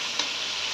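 Spices fry in a pan for a fish and potato curry, giving a steady close hiss with one small stirring clack near the start; the whole burst is very short.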